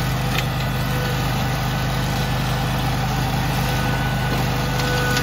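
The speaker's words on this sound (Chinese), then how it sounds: "搭载的是Honda GX690的引擎" Honda GX690 twin-cylinder engine on a Canycom four-wheel-drive ride-on mower idles with a steady, loud, continuous low rumble and an even throb throughout, no voices over it.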